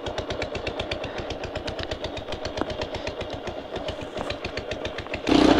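Motorcycle engine running unevenly with poor pickup, a steady rapid putter of close exhaust pulses, followed by a sudden louder burst of noise at the very end.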